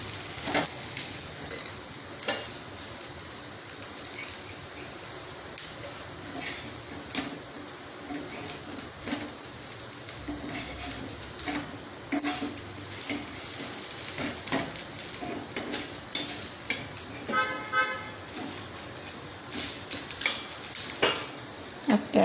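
Snake gourd cutlets frying in a pan, a continuous hiss and crackle of oil with occasional scrapes and taps from turning them.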